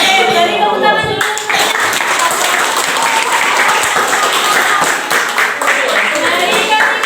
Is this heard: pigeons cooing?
no